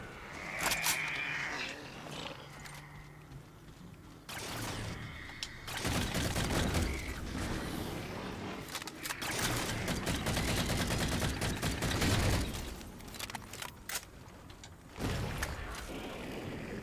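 Shotgun fire in the video game Halo 4 comes as several heavy blasts spread over the stretch, booming and close, mixed with busy game effects and rumble; no speech.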